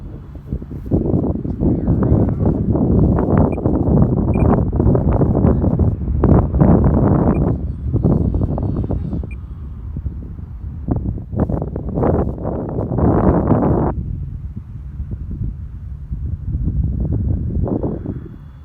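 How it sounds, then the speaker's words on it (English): Strong wind buffets the microphone outdoors at a model airfield, producing loud, low rumbling gusts in uneven bursts that swell and drop over the whole stretch. "Yeah, it is windy."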